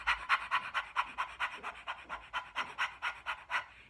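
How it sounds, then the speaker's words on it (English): A person demonstrates a vocal exercise, panting rapidly with the tongue out like a dog, making a steady run of quick, breathy in-and-out huffs at close range. "stick out your tongue and pant back and forth like a dog"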